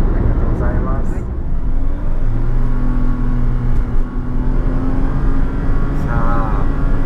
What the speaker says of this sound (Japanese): さあ、100まで加速するぞ。